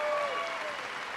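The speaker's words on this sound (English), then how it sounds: "Give him a big" A crowd applauds for a mayor at a political event, a brief burst of steady clapping with a voice faintly over it.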